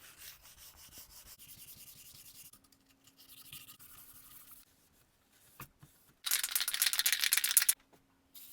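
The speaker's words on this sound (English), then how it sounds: "When it comes to wet sanding a clear coat, you just need to sneak up on a good result." Wet sanding the clear coat on a rattle-can refinished Chibson guitar body: steady rubbing strokes at a soft level, a pause, then a loud, brighter burst of fast sanding near the end.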